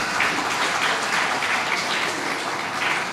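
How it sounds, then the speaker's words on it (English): Audience applause fills a hall at an Anglo-Indian association's annual rewards and recognition event, a steady dense clatter of many hands holding at one level throughout, with no voices. "Yes, please clap."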